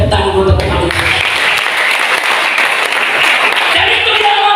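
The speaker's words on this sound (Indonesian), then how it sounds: "Bisa beri tepuk tangan untuk kami." A church congregation applauds steadily, a dense wash of clapping that fills the whole moment, loud and close, with a voice briefly at the start.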